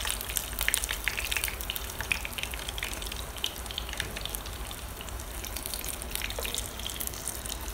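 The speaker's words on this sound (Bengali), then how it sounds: "এখন আমি ভালো করে ভেজে নিব চিকেনগুলা।" Pieces of chicken fry steadily in hot oil for nasi goreng ayam, a dense, even sizzle and crackle with no talking.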